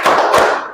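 A group claps hands in a brief rhythmic burst, two quick loud claps close together, with no voices.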